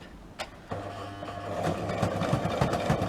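A sewing machine stitches steadily, starting with a couple of clicks and then a close, rhythmic mechanical whir with regular needle thumps, no voices.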